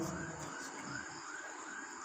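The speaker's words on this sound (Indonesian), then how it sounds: "biar lewat dulu Pak polisi atau ambulan. Wah, kerekam ya." Police car or ambulance siren passing by on a street, heard faint and somewhat distant as a steady wailing tone over background traffic noise.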